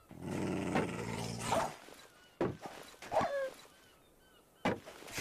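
A video game dog in Minecraft growls and snarls in several short bursts, close and fairly loud, with brief pauses between.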